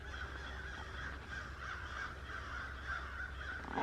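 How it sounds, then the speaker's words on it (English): Crows caw repeatedly outdoors in a loose, ragged chorus, faint and somewhat distant, over a low rumbling background. "Look, here the birds go."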